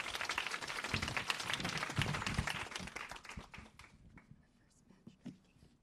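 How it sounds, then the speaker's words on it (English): Audience applause with dense, rapid clapping that is loud at first, then thins out and fades to a few scattered claps amid murmuring. "Let's give them all a big round of applause."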